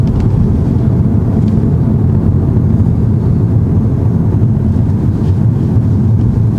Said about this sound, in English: Well, listen to that engine.